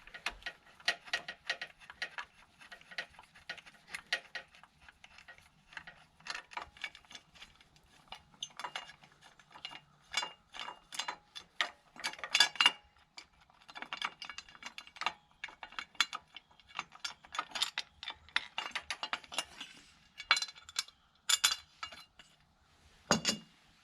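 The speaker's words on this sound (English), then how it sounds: "you've got two bolts to take off here to have access to the drive sprocket to swap out" Bolts and a cover being removed from the drive sprocket of a Kandi 110cc go kart with a 420 chain, giving many small metallic clicks, clinks and tool ticks in irregular close bursts.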